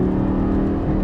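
A 2012 Lamborghini Gallardo LP550-2 with a 5.2-litre naturally aspirated V10 driving off, its engine a loud, close, steady droning growl in a brief burst.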